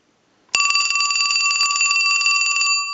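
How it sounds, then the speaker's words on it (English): A mechanical bell in a Western Electric Trimline telephone starts abruptly and rings continuously for just over two seconds, bright and close, with one small knock partway through. "Now this is a mechanical bell, and you will hear a little bit"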